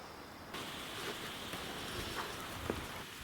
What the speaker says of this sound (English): Well, look at this. We've actually got rain. First time in weeks.